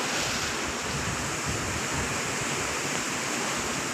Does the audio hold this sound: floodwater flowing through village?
yes